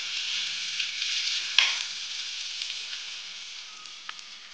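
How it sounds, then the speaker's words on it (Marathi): Hot tempering of spiced oil is poured over raw mango and onion chutney in a bowl, giving a steady close sizzle and hiss that slowly fades, with a faint clink partway through. "आता ही जी फोडणी आहे ती फोडणी आपण याच्यावर घालणार आहोत."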